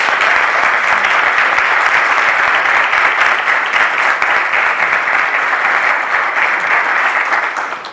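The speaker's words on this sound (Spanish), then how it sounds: "Un aplauso." Loud, continuous audience applause at a book presentation about the man behind Amstrad Spain, a thick roar of clapping hands that stays level throughout and starts to fade in the final second.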